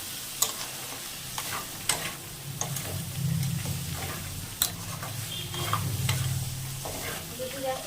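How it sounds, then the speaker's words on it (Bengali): Spoon stirring fish curry with spices and salt in a hot pan, steady sizzling frying with sharp scraping clicks of the utensil at irregular intervals, close and alone without talk. "সব একসাথে ভালো করে নেড়ে নেবেন"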